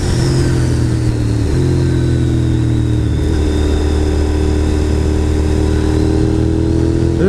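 A motorcycle engine drones steadily and close while climbing Bald Peak road, a twisty, corner-filled road, holding a constant pitch with slight shifts in tone.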